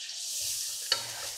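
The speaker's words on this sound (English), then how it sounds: "now we are gonna add in our flour. Continue to stir this for about 2 minutes." Flour being stirred into a sizzling pan of fat for onion gravy, a steady close hiss of frying with soft scraping strokes and one sharper clink of the utensil.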